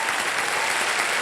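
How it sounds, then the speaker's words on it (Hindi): Dense studio audience applause on a televised quiz show, loud continuous clapping with no pauses, heard close. "एक बार फिर जोरदार तालियां"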